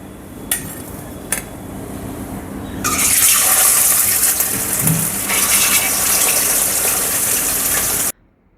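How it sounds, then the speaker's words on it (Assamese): Pieces of fish fry in hot oil for an Assamese fish curry. After a couple of sharp knocks, a loud, steady, close sizzling hiss swells up and continues until it cuts off abruptly. "এতিয়া মাছবিলাক ফ্ৰাই কৰি ল'ম"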